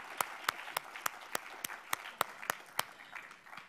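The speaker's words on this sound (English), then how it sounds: "More clapping." Audience applause at the Lorenzo Natali Media Prize 2017 ceremony, a steady wash of clapping with about a dozen sharper individual claps standing out at a regular beat, fading slightly toward the end.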